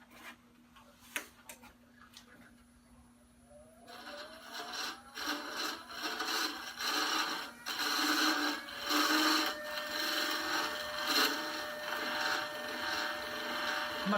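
Forstner bit boring into wood on a lathe setup, starting with faint taps and then a rough, pulsing grinding chatter that grows louder and continues steadily, close by.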